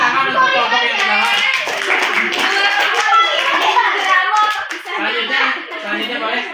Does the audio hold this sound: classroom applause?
yes